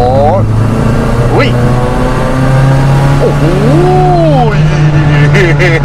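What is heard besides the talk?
supercharged VW Corrado G60 accelerating in third gear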